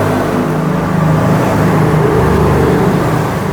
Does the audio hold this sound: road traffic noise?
yes